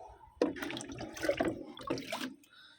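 Potash fertilizer solution splashes out in one continuous close pour onto potted flowering plants, starting abruptly and fading at the end.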